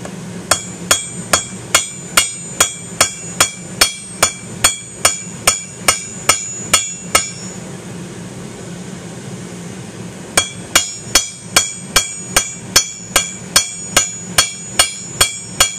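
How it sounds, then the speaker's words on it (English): A hammer forges the bevel on a laminated, hand-forged steel blade in evenly spaced, ringing metallic blows, loud and close, pausing for about three seconds midway before the steady strikes resume. "Now to start forging the bevel."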